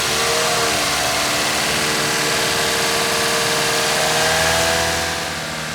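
A fully warmed-up car engine running during a coolant test, a steady close mid-pitched drone with a gentle rise in revs before easing back down near the end.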